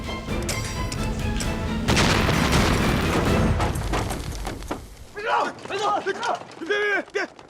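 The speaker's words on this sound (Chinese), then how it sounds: "手榴弹。" A loud, booming hand grenade blast with crashing debris, then people shouting urgently over the fading rumble.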